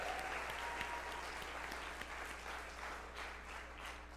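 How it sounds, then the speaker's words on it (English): Sustained applause from a church audience at Harvest Baptist Church in Jacksonville, clapping for the cooks; a dense, steady wash of many hands that holds at an even level for the whole stretch, with no talking over it. "let's give those cooks a big round of applause"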